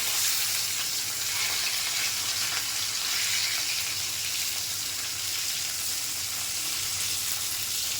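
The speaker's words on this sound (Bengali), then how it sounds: "মাছ ভাজা ফিরে দিয়ে দিয়েছি" Steady, dense sizzling of rohu fish pieces frying in hot oil in a kadai, continuous and fairly loud throughout with no talking.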